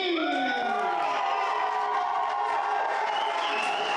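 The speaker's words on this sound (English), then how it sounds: "And a resounding cheer from our crowd here in the Artesia Youth Center for Tyler." A crowd at a wrestling show in the Artesia Youth Center cheers steadily for wrestler Tyler Dean, a continuous wash of voices and cheering that holds loud throughout.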